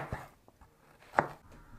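Fresh ginger being chopped with a knife on a board, a few sparse, soft, separate strikes, the last one the loudest, in a quiet kitchen.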